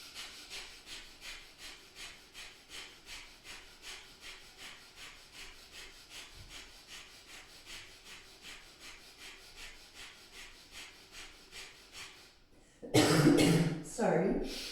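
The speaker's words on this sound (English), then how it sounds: "And breath of fire." Rapid rhythmic nasal breathing during a Kundalini yoga session, a steady train of quick even puffs of breath of fire lasting about twelve seconds, close and moderately loud, then a louder burst of breath or throat noise at the end.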